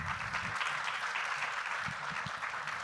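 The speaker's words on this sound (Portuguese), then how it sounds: "Aplauso, vamos." Audience at a literary talk breaks into applause, a thick continuous rush of many hands clapping, steady and even throughout, with a few low murmurs beneath.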